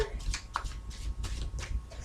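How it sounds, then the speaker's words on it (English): Cards are shuffled in quick riffling bursts, close up and brisk, repeating rhythmically for a couple of seconds with no one speaking. "So I'm just going to go ahead and shuffle these cards a little bit more."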